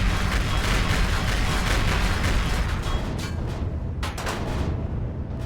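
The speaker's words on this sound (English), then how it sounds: "The rather loud explosion is the flat cat engaging there" A flak cannon fires in the Empyrion Galactic Survival space game, producing a loud, continuous roaring barrage of overlapping booms and bursts that thins slightly near the end, with a few sharper blasts standing out.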